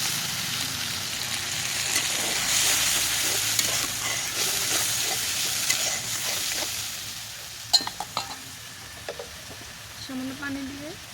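Spice paste with garlic sizzles and fries in a pan as a little water is added and stirred, a steady hiss with scraping and a few light clinks near the end.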